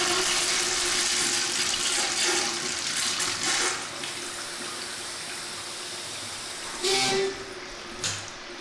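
A urinal flushes close by during a leak repair, a sustained rushing wash of water with a steady hum underneath, ending in two brief gurgling surges.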